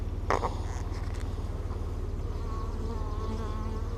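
Honey bees buzz steadily inside a queenless laying-worker hive holding drone brood, a close, continuous insect drone with a low hum running throughout.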